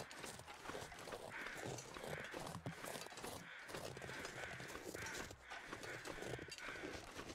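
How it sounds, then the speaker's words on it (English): Crows caw repeatedly in the video game The Long Dark on Timberwolf Mountain, harsh calls recurring in a loose rhythm over a constant windy background. "Where am I hearing these crows from?"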